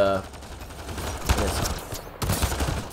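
Tech power explosions go off in a combat mission of the video game Mass Effect Andromeda, with bursts of rapid, crackling gunfire-like blasts over a dense, steady battle din.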